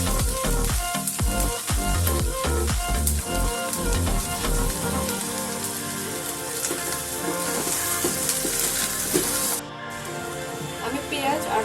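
Onion with red and yellow capsicum sizzles steadily in a frying pan while being stirred, with scraping and clattering strokes early on over a constant hiss.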